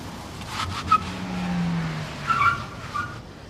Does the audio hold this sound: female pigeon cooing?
no